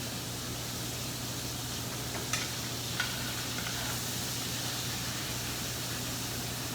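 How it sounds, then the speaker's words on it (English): Salmon sizzling steadily in a pan as melted butter is basted over it, a constant close hiss with a couple of faint clicks, no voices. "You take that melted butter and you throw it over the top of the fish"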